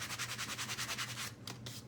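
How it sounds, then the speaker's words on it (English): Rhythmic back-and-forth rubbing of a sanding block on wood, about a dozen even strokes, close and fairly quiet, ending in a few uneven scrapes. "I like to just hit them with this little sanding block first"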